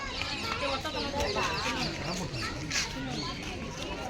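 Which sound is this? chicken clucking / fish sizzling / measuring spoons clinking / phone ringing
chicken clucking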